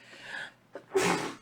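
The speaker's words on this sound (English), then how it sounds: "I gotta sneeze" A single sharp sneeze, preceded by a short sharp intake of breath, close and loud, with nobody speaking.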